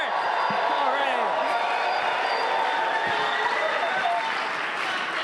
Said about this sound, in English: That's a good warm-up cheer.